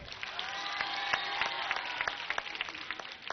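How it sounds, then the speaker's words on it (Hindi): Audience applause at a student yoga event in Ranchi, honouring young girls: a steady, fairly soft wash of many hands clapping with scattered sharp claps, sustained throughout with a faint tonal whine behind it. "इन छोटी बेटियों के लिए भी एक बार तालियां बजाओ।"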